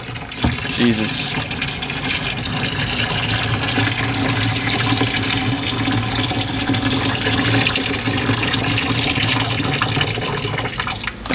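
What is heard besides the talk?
pouring boiling water from a kettle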